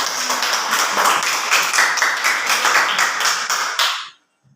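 Schoolchildren in a classroom clap their hands together in a steady, lively burst of applause that stops abruptly near the end.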